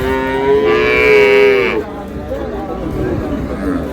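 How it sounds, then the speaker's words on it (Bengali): A dairy cow or calf at a rural cattle market in Dinajpur gives one loud, drawn-out moo up close, lasting under two seconds, followed by a busy background of voices from the crowd. "গাভী বাছুর"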